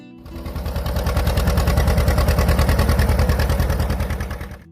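A two-cylinder tractor engine chugs steadily nearby, its loud, even putt-putt rhythm holding for several seconds before easing off at the end.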